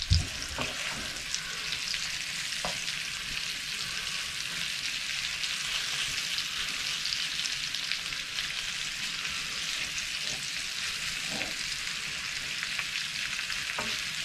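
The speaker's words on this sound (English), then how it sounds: "As I say, there's a lot of beef there. You can already hear that sizzling away." Chunks of beef browning in a pan for stew give a steady, busy sizzle and crackle that holds throughout, close and even, with no talking.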